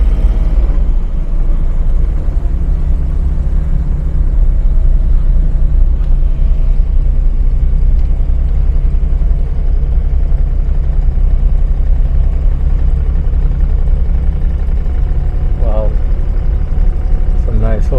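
A car drives slowly around the grounds of Rhyne Park House in St James, Jamaica, its engine a steady, loud low rumble throughout, with only slight changes and faint chirps near the end.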